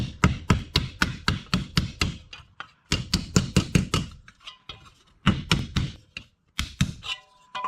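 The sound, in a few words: hammering a square metal lid for Optimus 99 kit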